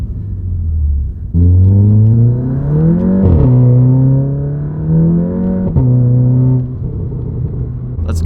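A Volkswagen GTI tuned to Unitronic Stage 2 launches hard under launch control, engine revs climbing in first, then a quick upshift to second and a renewed rising pull, loud and close.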